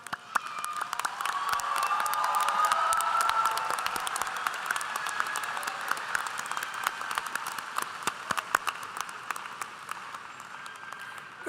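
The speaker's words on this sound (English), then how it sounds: "join me in expressing our gratitude to those who supported you with a heartfelt round of applause." A large commencement audience gives a sustained round of applause, dense and steady clapping with a few whoops and cheers, swelling early then slowly thinning out.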